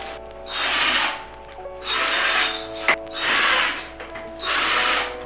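A power drill drives screws into the metal frame of a Flexispot E7 standing desk during assembly. Four close, loud whirring bursts of about a second each are separated by short pauses.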